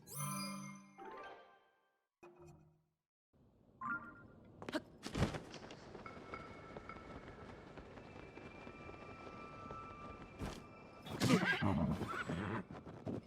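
A golden horse in The Legend of Zelda: Tears of the Kingdom neighs loudly in a drawn-out whinny, framed by game chimes and later footsteps and scuffles, with sparse sounds earlier.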